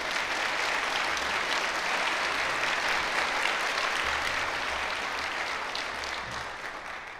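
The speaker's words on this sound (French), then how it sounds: "Applaudissons nos invités d'honneur." Audience at a university faculty of communication graduation ceremony applauding the guests of honour, a dense, steady round of clapping that fills the hall throughout and tapers slightly toward the end.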